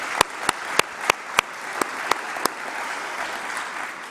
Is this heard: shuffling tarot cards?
no